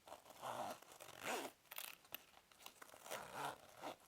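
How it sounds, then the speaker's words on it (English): A zipper runs around a compact carry case for a travel adapter and USB charger, heard as several close, quick rasping pulls with short pauses between strokes, alone without talk. "now I'm going to zip it up so you can enjoy the sound"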